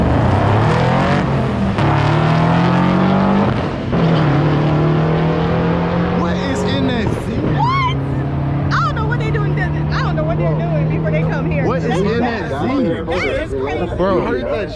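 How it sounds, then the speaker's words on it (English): A Nissan Z fitted with a V8 launches down a drag strip at a cars-and-coffee event, its loud engine climbing in pitch with distinct gear shifts, while people talk excitedly nearby over the roar. "You heard that shift? I think it's a V8 in that Z"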